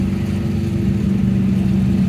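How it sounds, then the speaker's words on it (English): Siata car with a small Fiat V8 engine at the Pebble Beach Concours, a steady low engine rumble close by as it rolls in, with no talk over it. "I think we have a Ciata coming in here with a small Fiat V8"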